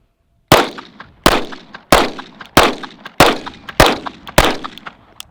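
Staccato P Duo 2011 pistol fired seven times in an even, rapid rhythm, each shot a loud sharp crack followed by a short ringing decay, with no talking.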